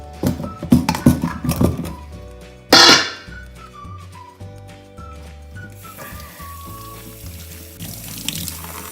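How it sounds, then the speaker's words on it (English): Running tap water splashing over tomatoes and peppers in a kitchen sink, a loud gush near the start easing into a steady stream under light background music. "So first we're gonna wash them."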